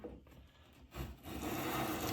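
A Stanley bench plane is pushed over a wooden board, producing a soft scraping stroke that builds into a steady rasping hiss as the shaving curls off, faint and close with no voices.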